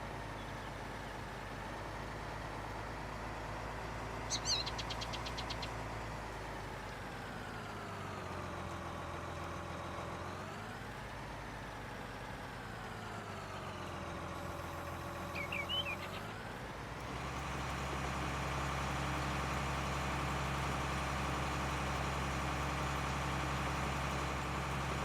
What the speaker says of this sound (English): this tractor is some pretty high horsepower, but this implement tool is pretty wide, and she digs awful deep.